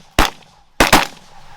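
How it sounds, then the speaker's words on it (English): Gunfire from a mallard duck hunt on a rainy day, aimed down from a hilltop: one loud, sharp shot, then a quick pair of close blasts about half a second later, ringing out over quiet outdoor background. "Oh, nice shot, Greg with the cleanup."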